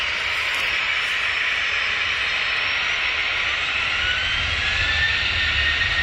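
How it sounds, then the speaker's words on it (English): Passenger jet engines roar during a takeoff run on a flight to Corfu, a steady loud whine and rushing hiss heard from inside the cabin, with a rising tone and low rumble building toward the end. "our plane tried to take off, and the nose gear malfunctioned"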